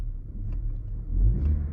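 A car engine rises gently in pitch as the accelerator is pressed, a low, steady hum swelling toward the end of the short stretch, heard from inside the car.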